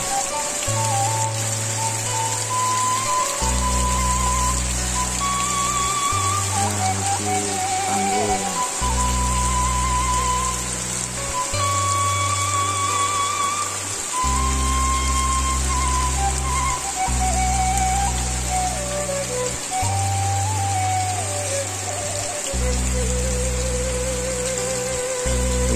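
Rain falling on a rural village in Garut, West Java, with wooden stilt houses: a steady, even hiss through the whole clip, under background music with deep bass notes and a melody.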